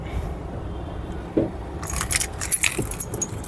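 Keys jangle and a key turns in the ignition of a 2015 Mahindra TUV300 T8 diesel SUV, with soft metallic rattling and clicks close by in a quiet cabin.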